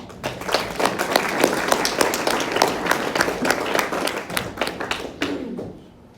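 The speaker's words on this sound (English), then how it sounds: "let's give a hand clap as well" A church congregation claps their hands together in warm welcome, a dense, steady patter of many hands close by that carries on for several seconds before fading out at the end.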